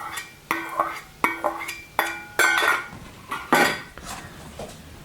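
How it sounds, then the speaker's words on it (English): Apple carrot slaw with a cranberry mixture is stirred in a bowl, a utensil clinking and scraping against the sides in a quick series of bright knocks and rattles, close and fairly loud. "Really stir this one well."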